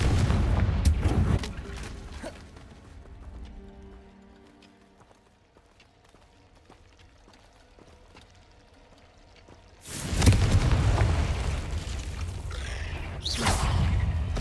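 Confringo fire spells burst in Hogwarts Legacy, with loud crackling blasts at the start, a quieter stretch of faint game sounds, then another strong run of explosive bursts near the end.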